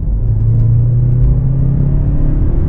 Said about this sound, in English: So we currently got this thing in sport mode right now. We're going to step on the gas, see the difference.